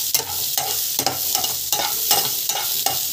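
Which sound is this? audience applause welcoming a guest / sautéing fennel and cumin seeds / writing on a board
sautéing fennel and cumin seeds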